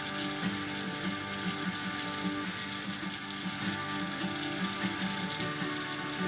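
Water from boiled potatoes drains from a pot into a pan, a steady pouring and splashing stream with a faint sizzle underneath, continuous and moderately quiet.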